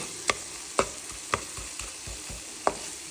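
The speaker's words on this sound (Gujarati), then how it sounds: "અહીંયા કાંદા અને ટામેટા પણ બફાવા મૂકી દીધા હતા વઘાર કરવા માટે" Onions and tomatoes for tempering sit in a pan with a quiet, steady sizzle, punctuated by five or six sharp clinks and scrapes of a stirring utensil at uneven intervals, with no talk.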